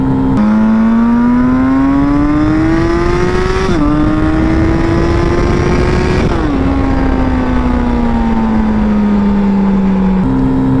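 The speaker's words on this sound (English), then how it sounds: "I shifted just because it sounded like I was getting close to the limiter" A turbocharged Yamaha XJ650 cafe racer motorcycle of about 100 horsepower accelerates hard, its loud close engine note climbing steadily through three gear shifts, each marked by a brief dip before the revs rise again.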